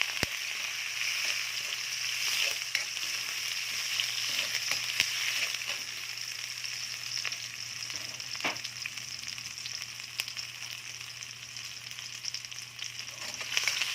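Garlic and onion sautéing in oil for beef puchero, a continuous close sizzle with occasional crackles and light utensil clicks, no talking.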